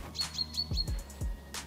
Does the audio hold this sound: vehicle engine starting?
no